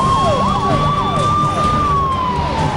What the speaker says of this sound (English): ensured an ambulance carrying a donor's heart reach its destination in less than 14 minutes